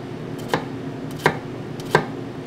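A knife cutting into an onion on a board, three distinct crisp chopping knocks spaced roughly evenly, close, with no voice.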